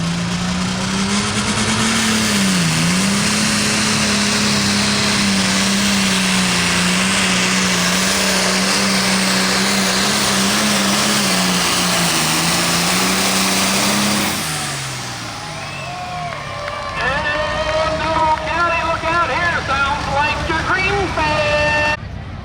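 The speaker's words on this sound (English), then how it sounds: "Here we go, Ray Campbell out of Beltsville, Ohio. John Deere 8400 calls us a digging deer." A John Deere 8400 tractor at a summer tractor pull in Caldwell, Ohio, its engine droning loud and steady before dropping off, with an announcer talking over it and crowd noise after.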